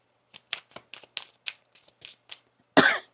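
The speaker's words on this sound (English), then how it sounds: "One more shuffle here." A deck of tarot cards being shuffled: a run of light, quick riffling taps at close range, ending in a louder burst that may be a cough, with no talking.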